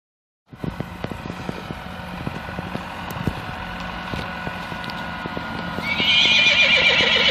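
Przewalski's horses whinny over steady hoof clip-clop on a road in the Chernobyl zone, with passing traffic rumbling behind and a louder, brighter neigh swelling near the end.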